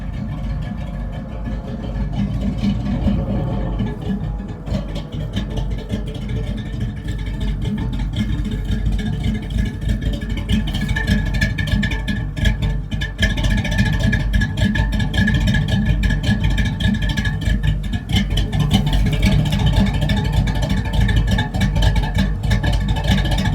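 A V8-swapped Ford Ranger engine runs at a slightly raised idle, a steady close rumble that swells a little louder partway through, with no voices.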